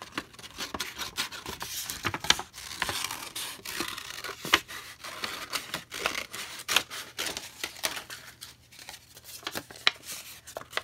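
Scissors cutting around a folded paper heart, a quick series of close crisp snips and rustling paper scrapes in a quiet room.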